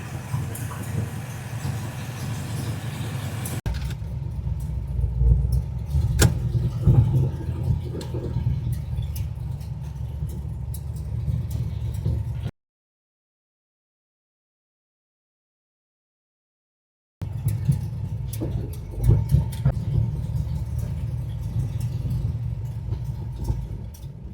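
A 1967 Dodge Coronet R/T 440 V8 rumbles steadily at idle with a deep, throaty low end, cutting out briefly to silence before resuming at the same loud, rough level.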